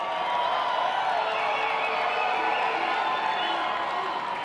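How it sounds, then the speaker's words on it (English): A large crowd at the Commander-in-Chief Ball applauds and cheers in a dense, continuous roar of clapping and whoops that holds steady and loud throughout. "Hopefully you can hear that applause."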